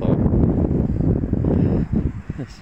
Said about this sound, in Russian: ветрено, пасмурно